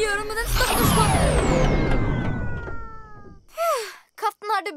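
Cartoon cat meowing in a children's animated episode, a sweeping rising-then-falling yowl followed by a few short, sharp meows near the end, heard over a busy score with no talk.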